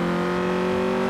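A 1997 Honda Civic with a VTEC engine revs in Forza Horizon 4, a steady loud, close, high-pitched engine howl held at sustained revs with strong harmonic tones, no voices.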